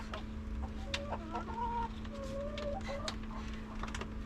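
Backyard chickens clucking close by in a steady series of short calls, heard over a constant low hum with no talking.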